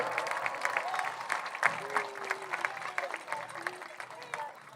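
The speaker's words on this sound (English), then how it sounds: "Let's give a big round of applause for the Homecoming Honor Guard." Crowd at a homecoming high school football game applauds the Honor Guard, uneven clapping with voices and cheers over an outdoor stadium murmur, rising and falling in waves.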